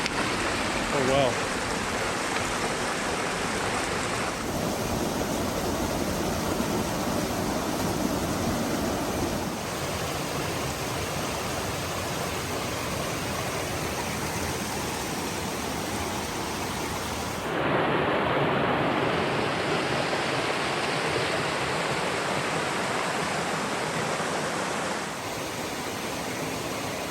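Deep Creek rushes through the Great Smoky Mountains in a steady, broad wash of flowing water, loud and close, continuing unbroken with only slight shifts in its roar.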